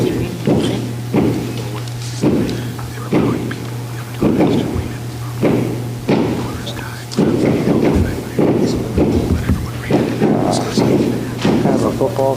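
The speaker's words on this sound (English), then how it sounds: "enjoy these great fireworks that are helping everything" Fireworks go off outside in a rapid series of loud booms, roughly one every second, heavy and close, with a steady low hum running underneath the whole time.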